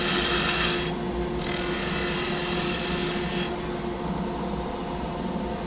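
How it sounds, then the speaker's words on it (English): A skew chisel planes a wooden cylinder spinning on a lathe, giving a continuous close rasping, shaving hiss whose brightness swells and dips as the cut moves along the wood. "Second top, planing the cylinder so it's true."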